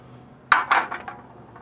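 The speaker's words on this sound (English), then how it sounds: "So let's take the windscreen off" A few quick metallic clanks and rattles close by as a thin metal windscreen is lifted off a Minibulldesign Voodoo 3 camping stove and set down, then quiet.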